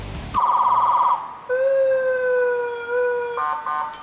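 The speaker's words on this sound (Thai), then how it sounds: "มีกดเรียกความฉุกเฉินหรือว่ากดให้เสียงแบบเสียงดัง" A loud electronic emergency siren from a Ford Ranger Wildtrak's loudspeaker cycles through several tones: a rapid warble, then a long steady wail, then short yelps.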